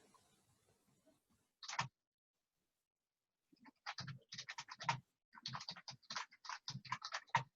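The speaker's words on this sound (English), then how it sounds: "I'll type it in here in the chat area." Someone types on a computer keyboard close up, giving one short burst and then rapid clusters of light clicking keystrokes with brief pauses between them, in an otherwise quiet room.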